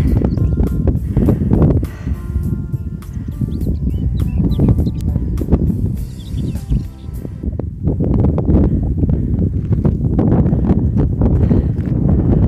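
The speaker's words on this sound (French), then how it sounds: "Alors beaucoup de vent, je ne sais pas si on m'entendra." Strong wind buffets the microphone on a high, flat stretch along the Camino Francés in Spain, roaring in loud, uneven gusts with a brief lull partway through.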